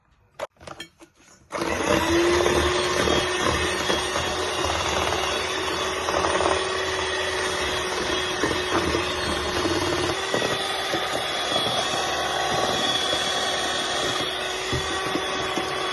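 An electric mixer whisks batter for a Swiss dessert while sugar is gradually added, starting after a few clicks and then running as a loud, steady, close whirring drone.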